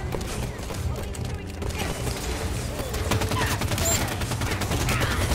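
Shooting in Halo 5 Guardians, with a dense, steady wash of game gunfire and battle noise running throughout at moderate level. A few sharper shot hits stand out near the middle.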